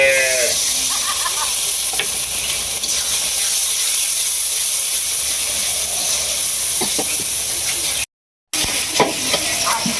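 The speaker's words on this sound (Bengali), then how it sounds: "হালকা পরিমাণে একটু জল দিতেছি কষানো।" Water added to a pan of frying chili-powder spice masala in a home kitchen sends up a loud, steady, close hiss of sizzling and steam that lasts throughout, broken by a brief dropout.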